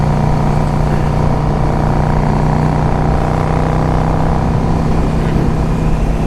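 A 2005 Yamaha V Star 650 motorcycle is being ridden, its engine drone a constant loud rumble blended with heavy wind roar throughout.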